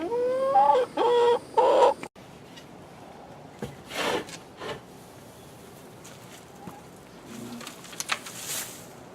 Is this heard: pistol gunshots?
no